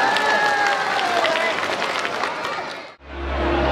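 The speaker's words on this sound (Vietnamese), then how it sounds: "một tràng pháo tay thật to không ạ?" A crowd at a lion dance competition at a shopping mall applauds loudly with cheering mixed in, a dense roar that dips briefly near the end before low rumbling returns.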